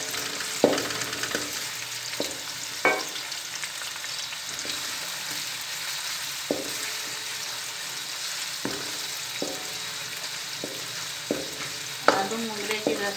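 Onion frying in hot ghee hisses steadily at moderate level, punctuated by regular taps and scrapes of a spoon stirring in the pan.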